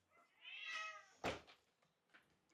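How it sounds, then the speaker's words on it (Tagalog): Pet cats meowing nearby, one long rising-and-falling meow followed by a sharp short call and a fainter meow after, with no talking. "dito yung mga alaga namin, mga pusa. Ngaw-ngaw na sila."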